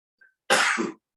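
One short, forceful sneeze, close and loud, preceded by a faint brief intake.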